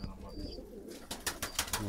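Baku broad-tailed pigeons coo softly inside a loft, low and close, and several sharp bursts of rustling or wing flaps break in toward the end.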